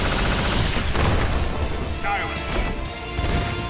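A huge Proton Cannon hyper attack from the Marvel vs Capcom fighting game erupts in loud, continuous crashing blasts and booms that fill the whole stretch, mixed with game voice shouts.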